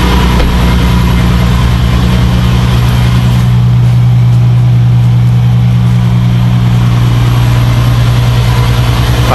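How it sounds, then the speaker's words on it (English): A 620 brake horsepower Bentley idles in cold weather, its exhaust giving a loud, deep, steady rumble heard up close at the rear with no voices over it. "Bentley now, just to show you its exhaust note"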